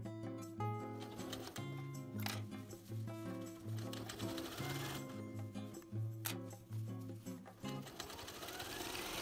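A sewing machine stitching the zipper fly of jeans, running in rapid mechanical bursts with brief pauses, close and clear over faint tonal background sound.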